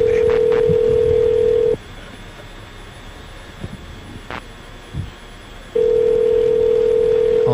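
An outgoing telephone call ringing on the line: a loud, steady electronic ring tone sounds for almost two seconds, stops for about four seconds of near silence with faint background noise, then starts again.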